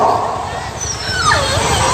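A dog yelps and whines in high, rising and falling cries over a busy background with voices mixed in.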